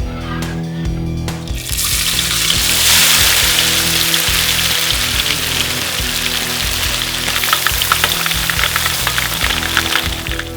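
Seasoned fish meat frying into abon in a pan, a steady loud sizzle with scraping stirring strokes, close and continuous after a brief start.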